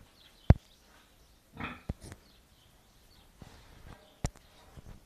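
Pigs in a farm pen give a few short grunts and snorts, scattered and fairly close, with quiet pauses between them and no talk.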